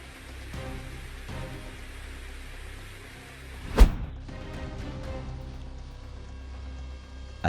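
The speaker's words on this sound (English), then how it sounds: "A heavy downpour suddenly turned the street into a rushing stream, sweeping away everything in its path." A heavy downpour hisses steadily and broadband over a flooded street, with one loud sudden splash or thump partway through and no voices.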